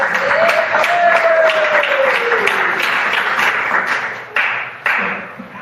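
A Pentecostal church congregation applauds during a worship service. Loud, dense clapping rolls on over a held musical note, then breaks into a few sharp separate claps before ending.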